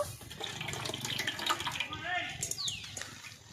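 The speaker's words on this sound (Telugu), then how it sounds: "నీళ్ళు పోసుకోవాలి" Water splashes and pours into a container of yogurt for making buttermilk while a person talks over it at moderate volume.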